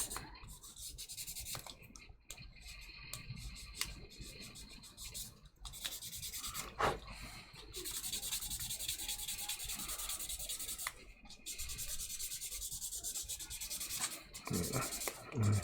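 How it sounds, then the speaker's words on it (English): Hand sanding and buffing with 800 grit sandpaper, a close, continuous rasping rub in uneven strokes with brief pauses between passes. "800 grit. Just kind of buff it out, smooth it out a bit more."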